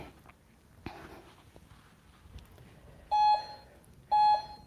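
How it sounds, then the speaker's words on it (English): An exercise timer gives two loud electronic beeps about a second apart near the end, after a few quiet taps and rustles. "Putting my timer on there."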